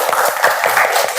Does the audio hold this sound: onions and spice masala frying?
no